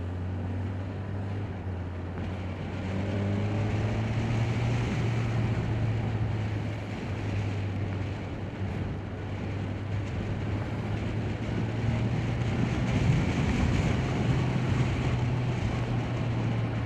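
Dense city traffic in India heard from a Kawasaki Ninja 1000SX on the move: a steady low engine drone and road roar with wind rush, continuous and loud, no talk.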